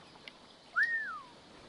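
A single short whistle from a character in Assassin's Creed III Remastered, a clear rising-then-falling tone lasting about half a second, close and alone over quiet game ambience.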